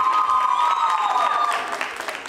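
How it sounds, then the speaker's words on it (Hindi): An audience at a college quiz show anniversary event claps loudly, dense applause from a crowd that tapers slightly toward the end, with a faint voice underneath. "तालियां जोरों से बजाई"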